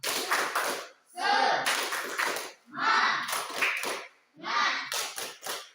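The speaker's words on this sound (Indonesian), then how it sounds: "Tepuk semangat." Students in a classroom perform a rhythmic cheer routine, patterned claps in short grouped bursts mixed with children's chanting voices, separated by brief pauses.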